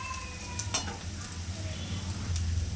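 Cumin seeds and two dried red chillies sizzle in hot oil for a Bengali winter-vegetable mixed dal, a steady close crackle and hiss with a low bubbling undertone and one sharp spatter burst partway through, no voices.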